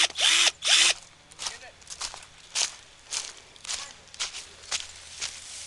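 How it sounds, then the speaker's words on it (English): A power drill at a children's fort rebuild whirs in short bursts, two louder runs up front and then several quieter, intermittent spurts with gaps between them. "Oh yeah, the drill is powered up now."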